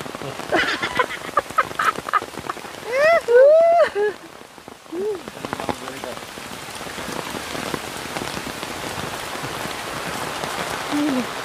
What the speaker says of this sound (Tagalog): Umuulan. Ito may bagyo na, namumuksa na ngayon yan.